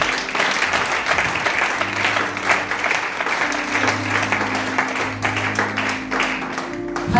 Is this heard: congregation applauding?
yes